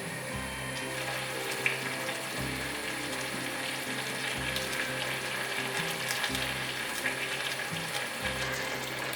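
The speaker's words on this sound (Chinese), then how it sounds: "开中小火，把豆腐煮熟，把汤汁煮开" Tofu cooks in about a bowl of water over medium-low heat, a continuous close bubbling and hissing with a faint low hum underneath and no talking.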